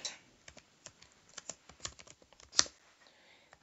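Fingers typing on a computer keyboard, a quick uneven run of close key clicks with one louder keystroke near the end, no voices.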